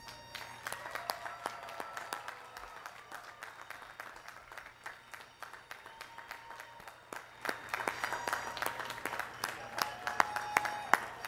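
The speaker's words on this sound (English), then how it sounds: "Please turn around and join me in giving those special people a well-deserved round of applause." Applause from the audience at the 2006 College of Environmental Design commencement rises from faint scattered claps into a fuller, denser round, heard from a distance and fairly quiet overall.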